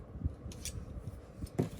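A few crisp scissor snips over a low background hum, spaced irregularly and fairly close, while unboxing an American Girl doll box.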